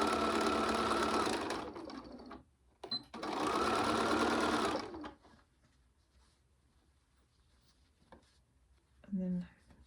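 A domestic sewing machine runs straight across the bottom of a fabric drawstring bag in two loud, close bursts of fast, even stitching separated by a brief pause, followed by quieter handling of the fabric and a short voice near the end.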